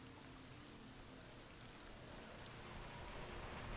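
Steady rain hiss fills a Deus Ex: Mankind Divided game scene, a dense, even patter of drops on surfaces with no voices over it.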